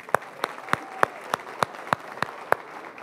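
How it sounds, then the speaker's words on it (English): A small group at a church baby dedication gives a brief round of applause, heard as about nine sparse, evenly spaced claps at moderate volume with no talking. "Y'all give them all a round of applause."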